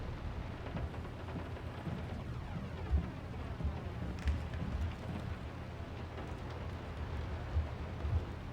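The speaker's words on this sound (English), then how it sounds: "The rain is so loud." Heavy, steady rain pours in the Layers of Fear horror game, a dense continuous hiss with a few soft low thumps, close and loud with no talking.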